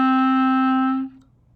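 A clarinet holds a single sustained D, steady and clear with rich overtones, for about a second before it stops and leaves near silence.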